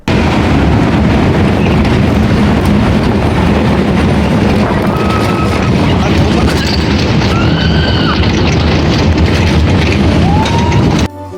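A theme park ride train at Dream World, Bangkok, rumbles along steadily with a dense, continuous roar, with occasional high squeals and faint rattling over the top.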